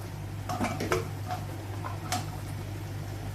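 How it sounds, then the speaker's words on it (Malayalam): A spoon stirs chopped vegetables into masala in a pot for sambar, with several close metallic clinks and scrapes against the pot over a low steady hum. "കഷ്ണങ്ങൾ നന്നായിട്ട് ഇളക്കി യോജിപ്പിച്ച് കൊടുക്കാം."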